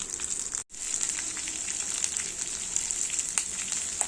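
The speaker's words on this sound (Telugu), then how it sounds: "నూనె వేసుకున్న తర్వాత ఆ నూనెలోనే పల్లీలు పచ్చిమిరపకాయలు వేసి కలుపుకోవాలి." Peanuts and green chillies fry in hot oil in a kadai, giving a steady bright sizzle with faint crackles that runs throughout, broken by one brief silent gap near the start.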